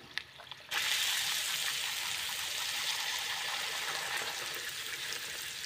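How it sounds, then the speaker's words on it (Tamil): Drumstick poori dough hits hot oil and a loud, steady sizzle bursts out, bubbling continuously up close as the poori deep-fries. "இப்போ நம்ம இதை ஃப்ரை பண்ணி எடுத்துக்கலாம்."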